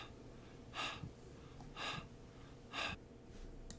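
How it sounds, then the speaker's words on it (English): Heavy breathing as a sound effect: three slow, evenly spaced breaths, each a breathy rush, close and quiet with pauses between. "this was heavy breathing."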